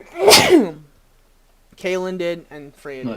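One sharp, loud sneeze close to the listener, followed after a short silence by a person speaking.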